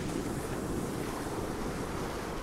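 Continuous rush of surf with wind buffeting the microphone, a steady wash of waves and no voices.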